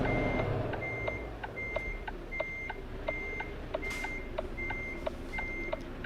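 In Euro Truck Simulator 2, a truck backing into a trailer sounds a steady series of evenly spaced electronic reversing beeps. They ring clearly over a continuous low engine rumble.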